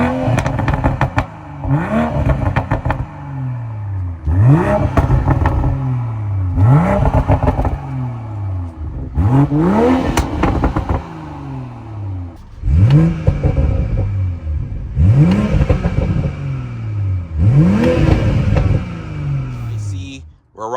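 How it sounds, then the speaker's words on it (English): A 2020 BMW M340i with its B58 engine and stock exhaust revs repeatedly, each loud rising blip falling back with crackle and burble, about eight revs in steady succession close to the car. "If you guys are wondering, this was the stock exhaust. I'm going to give you guys some sound clips with that right now."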